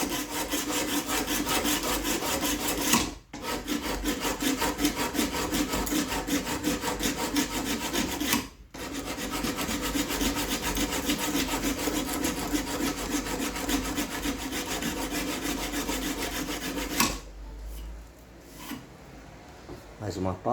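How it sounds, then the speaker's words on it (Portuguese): Coarse 36-grit sandpaper rubbed back and forth over a steel knife blade, a loud continuous scratchy rasp broken by two brief pauses, fading to quieter handling sounds near the end with a voice faintly present. "Por isso que é importante eu usar uma lixa grossa, tipo no caso essa que eu estou usando, o grão 36"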